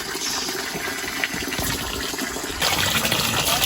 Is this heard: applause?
no